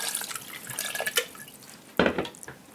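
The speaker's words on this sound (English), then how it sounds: "So we're gonna pour some of the marinade in here," Liquid marinade being poured over a turkey, dripping and splashing in uneven bursts with a louder splash toward the end, close by and with no talking.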